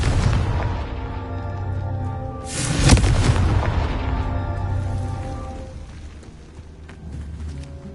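Fire-spell explosions in the Hogwarts Legacy video game: a loud booming blast near the start, then a second heavy burst around the middle that rumbles and fades into a lingering low roar.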